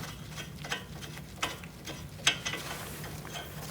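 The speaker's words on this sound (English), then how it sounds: "Remove your lug nut." A ratchet wrench loosens a lug nut on a 2016-2019 Chevrolet Cruze front wheel during a brake job, giving a few sparse, faint clicks and ticks over a low steady hum.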